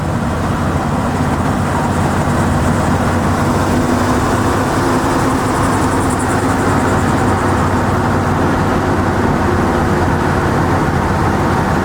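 A 1972 Ford F-100 pickup truck drives along with a steady, loud drone of engine and road noise that holds for the whole stretch, without voices.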